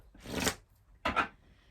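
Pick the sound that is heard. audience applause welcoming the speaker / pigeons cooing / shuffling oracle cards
shuffling oracle cards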